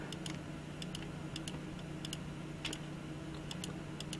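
Faint computer mouse clicks in a quiet studio, small sharp ticks arriving in quick pairs at irregular intervals over a low steady hum.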